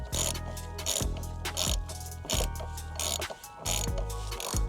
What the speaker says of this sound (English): So just tighten all the 3 screws that on the air box